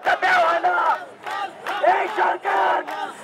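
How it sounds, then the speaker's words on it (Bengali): A group of cyclists at the Shaheed Minar grounds chants protest slogans against the Rampal power project in loud, rhythmic call-and-response bursts, several phrases in a row with short gaps between them. "শহীদ মিনারের চত্বরেই রামপাল প্রকল্পের বিরুদ্ধে স্লোগান দেন সাইকেলিস্টরা"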